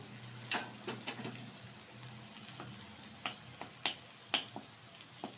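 Cauliflower fries in a pan with a soft, steady sizzle, while a spatula stirs it through, making sharp scraping clicks at irregular intervals.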